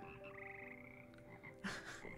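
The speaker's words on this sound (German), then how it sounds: "Ach, das sind Frösche." Frog choir in the video game Hogwarts Legacy, several frogs croaking in tuned, melodic tones against a soft musical background, with a louder croak near the end.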